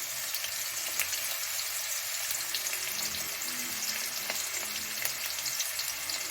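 Vegetables fry steadily in a pan for a spicy semolina dish, giving a continuous close sizzle with faint clinks and stirring noises and no talking.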